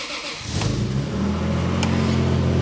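A Toyota Supra MK4 with its 2JZ engine cranks and catches about half a second in, then settles into a close, loud, rumbling idle that holds steady to the end.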